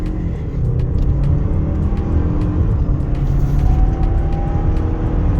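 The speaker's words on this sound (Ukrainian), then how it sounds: "Спробуємо від нуля до сотні розогнатися вгору." A 2019 Mazda CX-5 2.5T Grand Touring Reserve accelerates hard uphill from a standstill toward 100 km/h. A loud, steady engine roar and road rumble fill the cabin, with a slowly rising tone.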